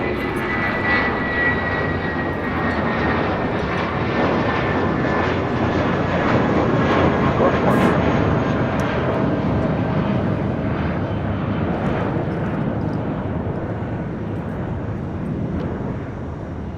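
An Airbus A380 airliner passes at LAX as a steady, loud, broad engine roar that holds evenly for the whole stretch with no speech.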